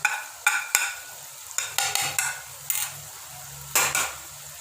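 Chicken karahi masala with garlic paste, salt, chili and turmeric sizzles in a pan while a spoon scrapes and stirs in repeated short strokes, close and clear.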